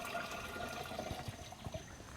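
Liquid pours into a backpack sprayer already holding about a gallon, a soft steady trickle and gurgle with a few small splashes, quiet and close.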